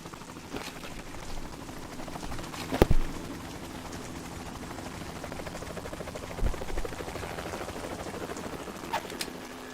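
A helicopter in the video game Metal Gear Solid 2 whirs with a steady rotor chop that persists throughout, joined by a few sharp metallic clanks and bangs.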